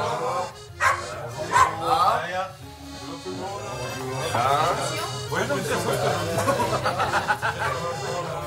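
A dog barks and yips close by in a lively burst of repeated barks, with people's voices mixed in around it.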